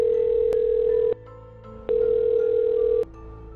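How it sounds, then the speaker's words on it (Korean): A telephone dial tone sounds in two long steady beeps separated by a short gap, clear and close, with no talking. "난 늦은 시간이긴 하지만 7층에 사는 형에게 전화를 해보게 되었다"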